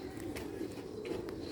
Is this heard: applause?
no